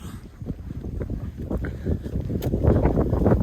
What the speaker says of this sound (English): Sorry it's kind of windy